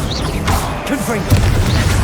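Confringo blasting spell fired in Hogwarts Legacy, a short burst with a booming impact and crackle under a voice shouting the incantation, close and loud over a brief two seconds.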